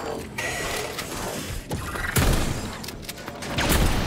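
A shotgun is reloaded in the video game Atomic Heart, with close mechanical clicks and clacks and shells sliding in, ending with a sharp metallic rack and a burst.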